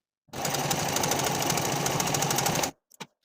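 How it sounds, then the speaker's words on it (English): A serger overlock machine runs steadily for about two and a half seconds, finishing the raw edge of a back bodice piece for a 1960s tie collar top. The motor whirs loud and close, with fast needle chatter, then stops and gives a couple of short clicks. "I'm going to take it to my serger and serge from top to bottom"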